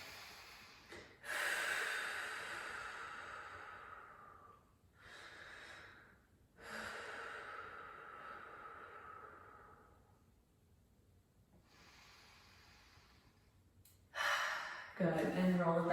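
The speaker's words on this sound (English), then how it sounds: "So big breath in." Deep, slow breathing during a beginner yoga stretch for tight hips: long drawn inhales and exhales close to the microphone, several full breath cycles separated by short pauses, with a sharper breath near the end.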